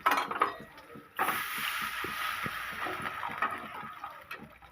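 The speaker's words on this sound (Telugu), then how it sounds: "రవ్వకు సరిపడా వాటర్ పోసుకొని" Water is poured into a pan for wheat rava upma, making a rushing, bubbling pour that starts abruptly and continues at moderate level for several seconds, with faint clinks underneath.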